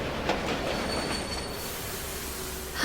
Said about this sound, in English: The train.